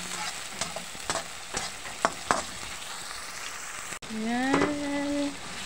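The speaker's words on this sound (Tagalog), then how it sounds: "Hayaan po natin maluto ang kamatis," Tomatoes cook in a pan with a quiet, low sizzle, broken by several sharp taps and scrapes of stirring and a short, whistle-like tone near the end.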